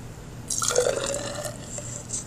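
Vinegar poured from a container into a glass lab flask, a short trickling, gurgling fill lasting about a second and a half, close by, with a faint drip at the end.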